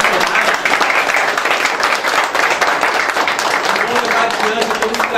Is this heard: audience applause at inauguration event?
yes